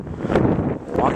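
Steady wind rushes and buffets the microphone throughout, a continuous broadband roar that swells slightly in places.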